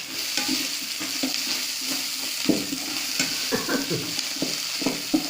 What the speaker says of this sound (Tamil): புளியை போட்டு நல்லா வதக்கிடுங்க